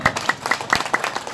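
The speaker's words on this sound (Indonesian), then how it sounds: "Tepuk tangan." Brief scattered clapping from an audience at a regency government ceremony, several quick hand claps of moderate loudness in an irregular patter, with no talk.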